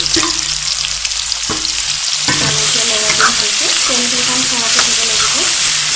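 Pointed gourd fries in refined oil with a loud, constant close sizzle and hiss, while a spatula stirs and scrapes through it in several separate strokes.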